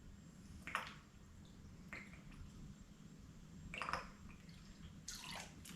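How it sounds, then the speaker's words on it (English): Strained fresh-squeezed lime juice poured into a cocktail shaker for a daiquiri, heard as a few soft, brief splashing and dripping bursts over a quiet low room hum, with no talking. "1 ounce of fresh squeezed lime juice that I've strained"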